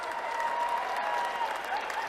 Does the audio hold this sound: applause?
yes